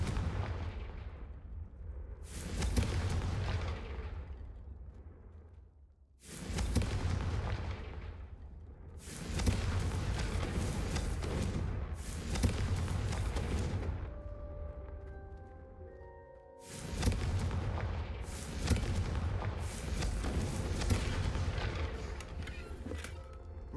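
Confringo fire-spell blasts from Hogwarts Legacy go off in a series of heavy, booming explosions, each with a rumbling tail, coming in irregular bursts of four or five separate detonations over the span.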